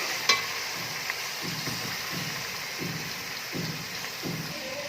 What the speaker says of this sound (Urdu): اس کو اچھی طرح سے بھون لوں گی میں۔